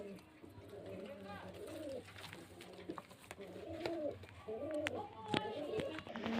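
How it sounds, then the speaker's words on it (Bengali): Pigeons coo repeatedly nearby in soft, throaty rolling bursts, several birds overlapping, with faint background chatter and occasional clicks. "দুটোই খুব ভালো পায়রা"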